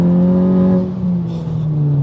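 Volkswagen Golf GTI Edition 30 with a stage 1 remap accelerating hard on a damp road, a loud steady engine drone with strong low harmonics that sinks slightly in pitch through a gear change, heard close from inside the car.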